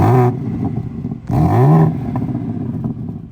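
BMW G80 M3 Competition fitted with an aftermarket valved exhaust, set to M1 mode, blips twice: a short rev, then a pause and a longer rising rev that settles into a rumbling idle with light burbles, recorded up close.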